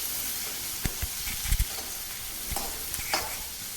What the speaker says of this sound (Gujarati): ડુંગળીને સરસથી સાતળવાની છે.